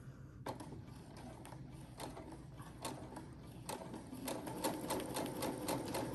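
A sewing machine runs a straight seam along the raw cut edge of a ruffle bag panel, gathering the fabric as it goes: quick rhythmic bursts of stitching that steady into a continuous, close whir toward the end, with no talk.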